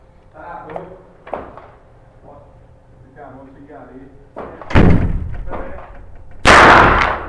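A single sharp, loud rifle shot from an Uberti 1873 Sporting Rifle at an outdoor range, preceded by a quieter blast and bursts of nearby talk, the final crack ringing out strongly near the end.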